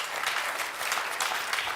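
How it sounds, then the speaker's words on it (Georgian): Studio audience applause on a Georgian comedy game show, a steady, dense wash of clapping that holds evenly for the whole moment without any voices. "გილოცავთ აპლოდისმენტები"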